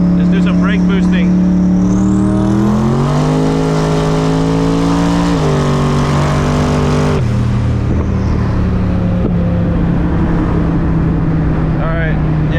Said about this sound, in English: Let's do some brake boosting.